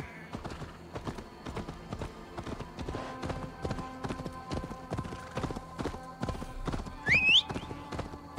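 Hooves clip-clop in a fast, even rhythm throughout, with a brief high whinny near the end, from a horse in the video game Assassin's Creed Valhalla; no one talks over it.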